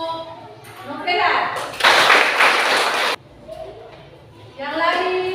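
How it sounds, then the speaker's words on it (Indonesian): A short burst of classroom applause for a pupil named Novela during a Christian religious education lesson, loud and dense for about a second and a half, set between stretches of a teacher's speech. "Tepuk tangan untuk Novela."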